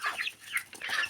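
Chickens kept with mixed feed in a backyard give several short, quiet clucks in quick succession, close by and uneven in rhythm.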